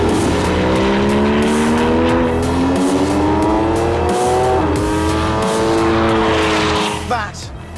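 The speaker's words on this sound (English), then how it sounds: "Six-cylinder, normally aspirated engine, and it sounds like" A Porsche naturally aspirated six-cylinder sports car engine revs loudly and climbs through the gears, its howling pitch rising in steady sweeps before dropping off at the end.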